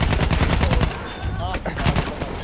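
Rapid automatic gunfire in a shooter video game, dense loud bursts of repeated shots up close, briefly easing before further volleys, with game effects layered over the firing.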